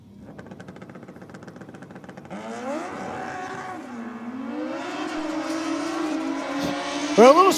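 A drag racing motorcycle with no wheelie bar runs at Sydney Dragway, its engine note climbing from a lower drone into a loud, rising high-revving wail that ends in a sharp upward sweep.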